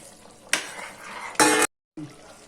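Scraping and clattering of a utensil stirring a field bean and eggplant curry with added water in a pan, in a few bursts with a brief silent gap, close up.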